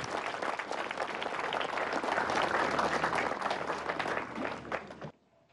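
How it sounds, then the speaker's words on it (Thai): An audience at the 2019 Thailand Masters golf tournament, Phoenix Gold Golf & Country Club, claps for the champion, a dense, sustained round of applause that cuts off abruptly near the end, leaving quiet. "ขอเสียงปรบมือให้กับแชมป์ Thailand Master 2019แจ๊สเจนวัฒนานนท์ครับ"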